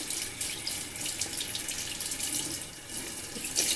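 Steady running tap water pouring into a sink, a continuous broadband splash that stays close and constant throughout.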